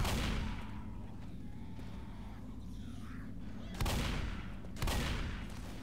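A shotgun fires twice in the zombie shooter Left 4 Dead, two sharp booming blasts about a second apart over a steady low game rumble.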